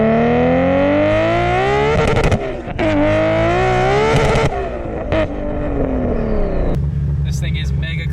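A street-driven Nissan Skyline GT-R R34 with an 1100-horsepower RB26 engine revs hard and loud, its pitch climbing and dropping through several sharp bursts before settling to a lower idle near the end, with brief voices in the background.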